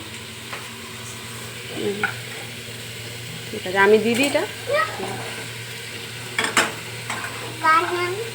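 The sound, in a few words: chicken stew frying in a kadai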